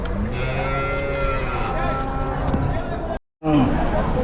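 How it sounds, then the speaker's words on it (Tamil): Cattle moo at a busy cattle market in Vaniyambadi, several long, drawn-out lowing calls overlapping nearby while someone talks over them, with a brief dropout near the end. "இந்த மாடுங்க எல்லாம் காட்டில் மேய்ஞ்சிட்டு இருந்த மாடுங்களா இல்லை ஊரில் இருந்த மாடெல்லாம் தெரியல"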